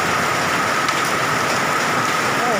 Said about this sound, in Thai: ลูกเห็บกระเด็นใส่ครับ